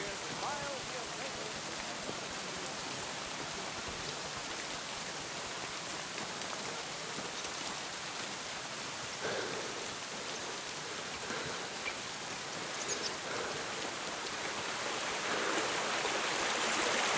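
Steady rain falling outdoors, a dense, even hiss of drops that stays constant and fairly close throughout, swelling slightly louder near the end.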